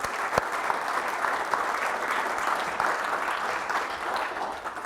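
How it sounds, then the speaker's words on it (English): Sustained audience applause greets a speaker's parents at a talk, a dense even wash of many hands clapping throughout without a break. "Give them a big round of applause, my mom and dad"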